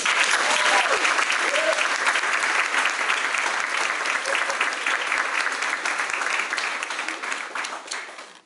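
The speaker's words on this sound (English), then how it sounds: "And for that, you should be applauded" Graduation audience applauding graduates of a ConnCAT program, a sustained, dense roar of many hands clapping that holds steady before tapering off toward the end.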